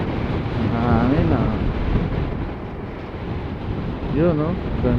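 Wind rumbles and buffets the microphone throughout on a Honda Beat V2 motor scooter ride, while a person speaks briefly twice in Filipino over the noise.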